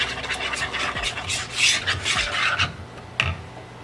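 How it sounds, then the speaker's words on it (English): A whisk scrapes and rasps rapidly against a bowl, mixing batter with garlic powder and salt in a close, busy rhythm with no talking. "We're going to whisk this until it is well combined."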